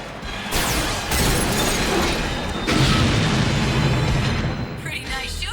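Laser rifle fire and explosions in an animated sci-fi battle: loud, dense blasts and crashing booms that swell in waves, with a brief lull near the end.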